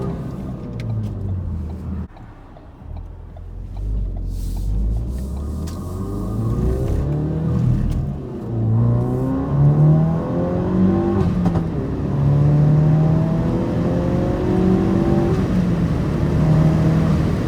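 A Ford Focus RS, freshly tuned with an SCT X4, accelerating hard through its gears, the engine revving loud and close in rising sweeps with brief dips at each shift.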